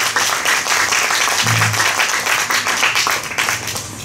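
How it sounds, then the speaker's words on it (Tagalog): Church congregation applauding during a sermon, a dense, steady wash of many hands clapping at full volume, with a brief low murmur of voices partway through. "Hina naman ang palakpak ninyo."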